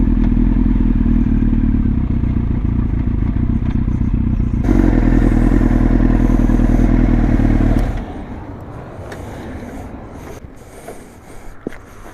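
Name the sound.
Yamaha YZF R1 motorcycle engine running while riding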